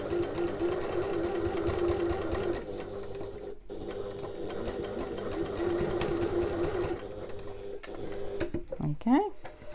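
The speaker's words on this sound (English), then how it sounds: "I'm going to sew from the other end because I find it a little bit easier." A domestic sewing machine runs steadily, stitching a 3/8-inch seam on a fabric backpack, its close, even motor whir continuing almost throughout with a brief pause near the middle and a short voice near the end.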